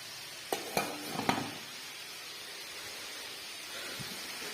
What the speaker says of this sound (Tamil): பாருங்க இறைச்சி பொரியுது.